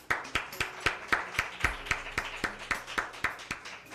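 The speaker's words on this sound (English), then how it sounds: "Come on, let's give the Lord a hand clap." Rhythmic hand clapping at a Sunday church worship service, steady even beats about four per second, moderately near with some room echo and no talk over it.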